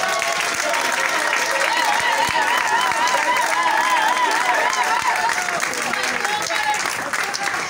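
A ceremony crowd claps continuously in a full, even wash of applause lasting the whole stretch, while a voice speaks faintly on top.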